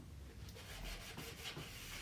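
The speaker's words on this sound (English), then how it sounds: "I guess I'm just sanding down a little more" Sandpaper rubbing a DIY wooden Christmas sign, a steady scratchy friction in quick repeated strokes, close and fairly quiet with no talking.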